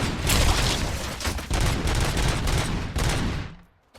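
Rapid bursts of gunfire from the RoboCop Rogue City video game, dense volleys of shots with short pauses, loud and close, fading out at the end.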